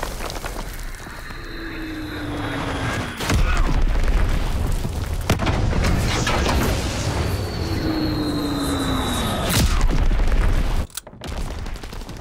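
Heavy bomb blasts boom in a Call of Duty WW2 multiplayer match, two big explosive hits several seconds apart set against a constant rumble of battle, gunfire and machinery.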